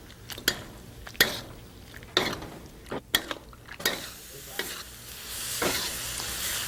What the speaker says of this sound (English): The idea is we're cooking our sauce down so that the beans become dry but coated with the